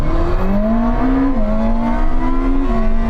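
Ferrari SF90 and BMW M1000 RR pulling hard in a second-gear roll-on drag race, a loud close engine note climbing steadily in pitch with a brief dip where a shift occurs, then rising again.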